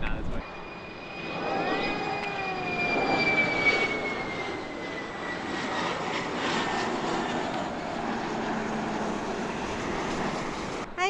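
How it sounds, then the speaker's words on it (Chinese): A Loong Air jet airliner approaches and lands at an airport, heard at close range. It produces a loud, sustained engine roar with a high whining tone that slowly falls in pitch over about eleven seconds, with faint voices underneath. "那边飞机来了。"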